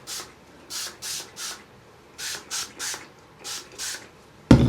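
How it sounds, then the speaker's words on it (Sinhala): Heat protection hair spray from a pump bottle, eleven short bright hissing bursts in uneven groups, close and clear, followed by a sudden louder bump at the end. "ඊට පස්සේ ප්‍රොටෙක්ෂන් ස්ප්‍රේ එක"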